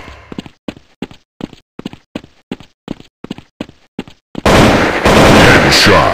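Sniper rifle fire in the Android shooter Critical Strike CS: about a dozen sharp, evenly spaced shots crack in quick rhythm, then give way to a sustained loud burst of gunfire and noise.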